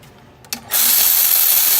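A power tool whirs up to a steady high-pitched run while tightening bolts on a Subaru WRX STI coilover install, preceded by a couple of short clicks, close and loud.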